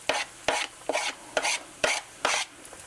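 A spoon stirs chipotle pepper in adobo sauce with garlic and oregano in a pan, giving six or seven loud, regular scraping strokes close by, each with a faint sizzle, and no talking.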